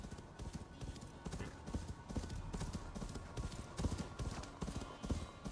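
Horse hooves clip-clop at a steady walking rhythm in the video game Assassin's Creed Valhalla, close and continuous throughout, with a faint background bed beneath the footfalls.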